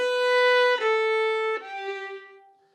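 A violin plays the climax phrase of a song: three long, sustained bowed notes stepping downward, close and clear, the last one fading out.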